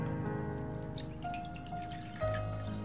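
Half a bowl of plain water is poured into a sauce mix of vinegar, soy sauce and potato starch, giving a steady trickle and drip that thickens into a fuller splash near the end, close and alone.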